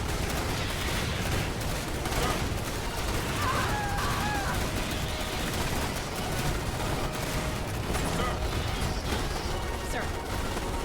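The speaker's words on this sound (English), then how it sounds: "I can have you use your shotgun barrage to help suppress here" Shotgun barrage fire from the strategy video game Starship Troopers: Terran Command keeps up a continuous din of overlapping shots and crashes, loud and unbroken throughout, with faint voice-like sounds mixed in.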